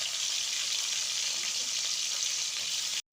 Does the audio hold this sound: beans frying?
yes